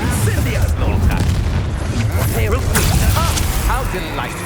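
Spell blasts and explosions from Hogwarts Legacy combat (Glacius, Bombarder, Incendio) boom and crackle continuously in a dense, loud barrage, with voices talking over the fighting.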